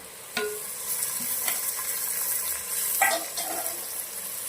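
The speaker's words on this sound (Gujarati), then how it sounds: "હવે આ સરસ મજાનું આપણે થોડી વાર શેકાવા દઈશું હવે આપણે નાખવાનું છે કોબીજ અને ટામેટું" Cabbage and tomato frying with ginger and garlic for Manchow soup, a steady soft sizzle with occasional clinks and scraping stirs of a utensil in the pan.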